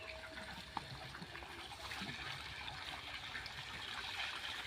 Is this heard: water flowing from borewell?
yes